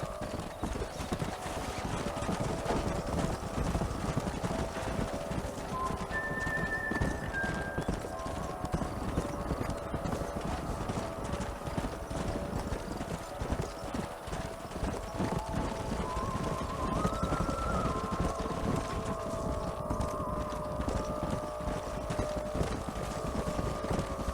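Steady clip-clop of horse hooves plods on continuously in the video game Red Dead Redemption, with wind and occasional faint whinnying tones over a constant outdoor background.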